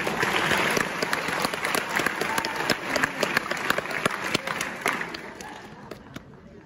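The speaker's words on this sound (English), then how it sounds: "So we want to give them a round of applause." Audience applause at a CNA nursing-assistant pinning ceremony: a dense, sustained burst of many hands clapping with scattered sharper claps, fading somewhat toward the end.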